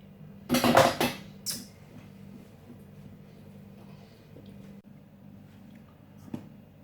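Spoon scraping and clanking in a pot while mixing gently crushed garlic potatoes: a cluster of loud metallic knocks and scrapes early on, then a quiet background hum with a faint clink later.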